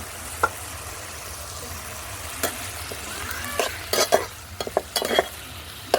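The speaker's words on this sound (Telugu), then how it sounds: "టమాటాలు పచ్చిమిరపకాయలు ఒకసారి తిప్పుకుందాం" Tomatoes and green chillies are stirred in a pan over a wood-fired stove, a low steady sizzle with scattered scrapes and clinks of the spoon growing busier toward the end.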